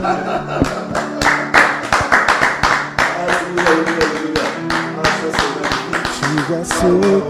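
Rhythmic hand clapping rings out in praise of the Lord at a worship gathering, loud and continuous over several seconds, with voices and tonal singing running underneath.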